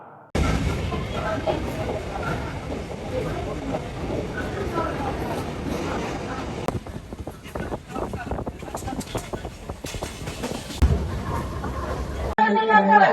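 Inside a moving suburban train near Khadavli, a steady rumbling clatter of wheels and carriage fills the cabin, with wind buffeting and someone talking over it.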